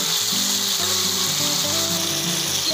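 Sliced onions sizzle and crackle in a pan with pork, a steady, loud frying hiss with some low clatter underneath and no talking.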